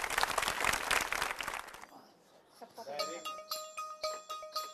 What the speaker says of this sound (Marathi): चला टाळ्या वाजवून शुभेच्छा देऊया.